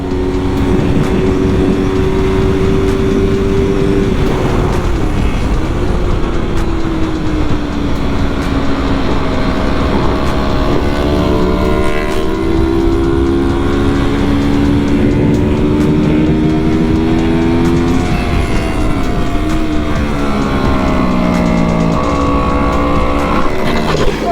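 Engine of a Yamaha R3 sport motorcycle revving hard and continuously, pitch climbing and dipping through gear changes, loud and close throughout with no pause.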